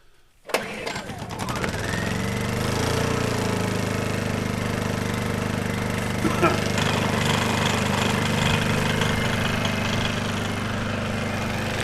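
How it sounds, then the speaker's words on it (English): A small Honda E2000 portable generator cranks and catches, then settles into a steady, fairly loud running drone that holds evenly for the rest of the stretch. "this is my little Honda E2000 generator."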